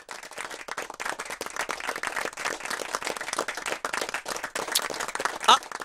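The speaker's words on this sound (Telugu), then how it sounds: "అరే చప్పట్లు కూడా కొడుతున్నారే." A crowd claps steadily through a climactic film scene, dense rapid hand claps carrying on for several seconds beneath a voice, with a sharper sound near the end.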